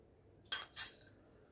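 A spoon clinks twice against a bowl or container while a black pepper and clove mix is added to chicken, two short faint metallic taps in a quiet room.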